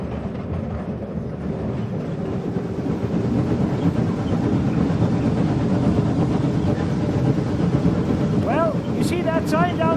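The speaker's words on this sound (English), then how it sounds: "Now he's slowing the train down a little bit with a brake." The California Skunk Train slows on its rails under braking, a steady loud rumble and rattle of the cars with brief squealing tones near the end.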